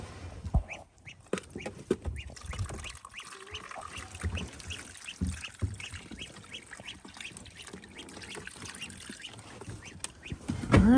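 Ducks on a goat farm during a snowy winter storm quack repeatedly throughout, overlapping calls close by amid rustling and handling noises.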